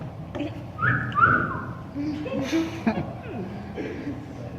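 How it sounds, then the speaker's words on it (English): A single shrill rape whistle blast, sustained for under a second, rises over background chatter and light laughter at a standup comedy show. "You got this new rape whistle?"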